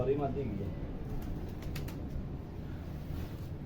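Soft pigeon cooing in the foreground over steady low background noise, with a few brief faint chirps partway through.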